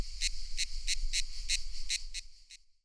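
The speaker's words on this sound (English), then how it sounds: "Some cicadas produce high-frequency chirps" A cicada gives a rapid series of high, buzzing chirps in a steady rhythm, about nine pulses, ending abruptly.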